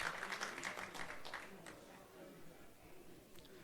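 A home crowd at an amateur football match claps in a burst of applause during a substitution, loud at first and gradually thinning out, fading toward scattered clapping over background murmur.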